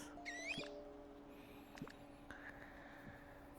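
A Wattrel Pokémon cry from a video game: a brief, faint, high chirpy squawk near the start, followed by soft electronic blips and tones at low volume.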